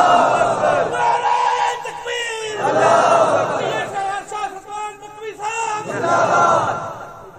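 A large crowd at a religious speech gathering shouts a slogan in unison in answer to a leader's call, loud repeated rhythmic chanting bursts from many voices filling the space.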